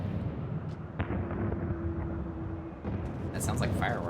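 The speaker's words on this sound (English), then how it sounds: "That sounds like fireworks." Explosive bursts like fireworks in a video game, a sharp report near the start and a cluster of crackling pops toward the end over a steady game soundscape, with talk running throughout.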